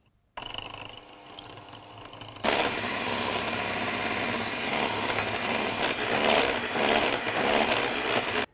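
An electric mixer whips egg whites in a bowl, starting softly and then jumping to a louder, steady high whir as the speed rises and sugar is added, with faint rattling from the beaters.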